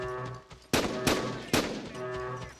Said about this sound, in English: Who am I shooting at?